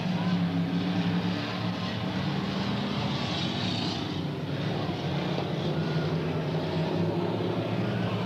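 Pure stock race cars circle a short oval track in 1993, their engines making a continuous loud roar with a slight swell as they pass, while an announcer talks over the noise.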